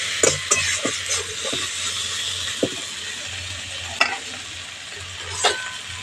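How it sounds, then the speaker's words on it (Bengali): Chopped potatoes with salt sizzle in a frying pan while a spatula stirs and scrapes, giving scattered clicks and scrapes over a steady, close hiss of hot oil. "নুনটা আলুর সঙ্গে খুব ভালো করে মিশিয়ে নিয়েছি।"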